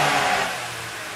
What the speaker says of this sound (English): I'm jumping on the car to give it a little accelerations